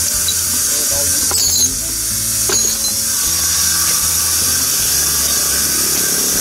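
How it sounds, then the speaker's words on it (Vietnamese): A power saw cutting into a stone pillar at a riverside stone quarry, a high steady whine with grinding tones and brief sharp squeals, loud and continuous. "Bên đây phải cưa một cái nữa hả?"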